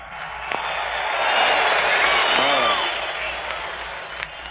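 A 1936 heavyweight boxing crowd at the Joe Louis vs. Jack Sharkey fight roars and applauds in a broad, swelling wash that rises, peaks and slowly fades, heard through an old radio broadcast.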